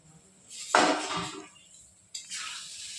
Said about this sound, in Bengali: এবার আমি ঢাকনিটা খুলে আবার একটু নেড়ে চলে নেব